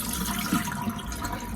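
Water squeezed from homemade butter churned from heavy whipping cream, a soft continuous trickle and splash of liquid, low and fairly faint, with no talking.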